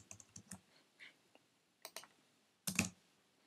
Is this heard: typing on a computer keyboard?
yes